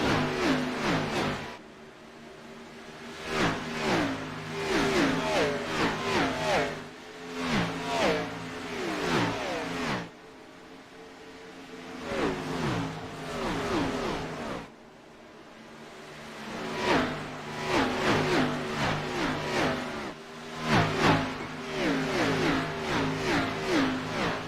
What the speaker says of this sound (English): get ready to hear the sound of these NASCAR Xfinity cars as we continue to see this battle for second place.